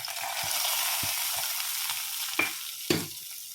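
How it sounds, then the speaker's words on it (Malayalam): Fried cashews tipped into a pot of sago payasam and stirred: a continuous soft sizzle with light scraping, then two sharp clinks of a spoon against the pot near the end, close and without speech. "പായസത്തിലേക്ക് നമുക്ക് ഈ കശുവണ്ടി ചേർത്ത് കൊടുക്കാം"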